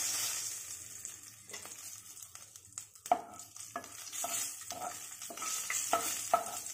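Whole cumin and dried red chillies crackle and sizzle in hot oil, a close, fairly quiet fry marked by repeated stirring clinks and scrapes at irregular intervals.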